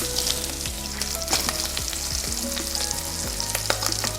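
Mushrooms hit hot bacon and sausage fat in a pan, raising a loud, steady sizzle with crackling pops and occasional scraping clinks of a utensil throughout, no voices.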